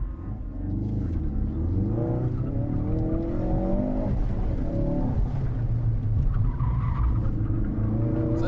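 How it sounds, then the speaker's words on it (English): A 2016 Ford Focus RS slides under power while its tires squeal in wavering, pitch-shifting howls over a steady engine drone, loud and close. "I think the tires are just getting a little saucy right now because I've been sliding the car."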